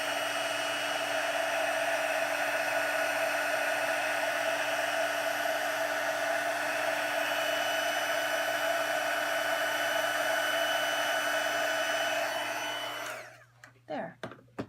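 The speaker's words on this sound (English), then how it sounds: "use my heat gun one last time to really help this glitter stick" A heat gun blowing on glitter on a stamped card gives a steady, even whir that runs for about thirteen seconds and then cuts off, followed by a few light handling knocks.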